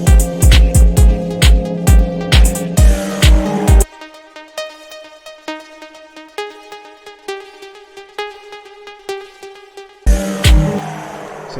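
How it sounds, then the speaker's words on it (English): A synth pluck drenched in delay and reverb repeats in a dance beat, first riding over thumping kicks and drums, then alone as echoing plucked notes trail off, before the full beat slams back in. "Just a regular pluck that I use, but it has a lot of delay on it and reverb"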